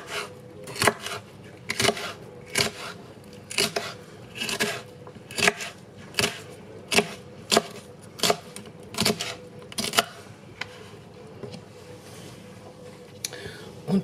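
Knife chopping food into coarse pieces on a board, a steady series of sharp close knocks roughly every half second, with a voice talking over them now and then.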